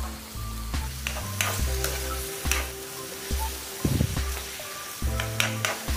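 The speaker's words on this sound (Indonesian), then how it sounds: "aduk sampai rata" Tofu and tempeh being stirred in a spiced broth, with a spoon scraping and clacking against the pan in irregular bursts over a soft bubbling sizzle, close and moderately loud, with no voices.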